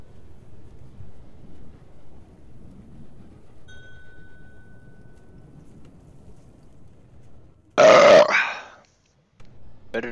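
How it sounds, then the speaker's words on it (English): A single loud, rough burp erupts near the microphone after several seconds of faint low background rumble, then stops abruptly. "Better to burp and taste it than to fart and waste it."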